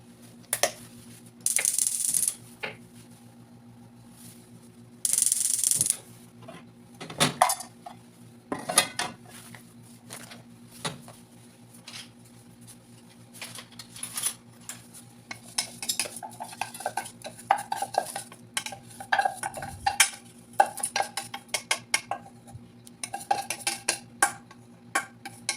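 Food roasts in a pan while a metal utensil scrapes, clatters and taps against it, making irregular clinks and scratches that come close together and grow busier toward the end, with no speech.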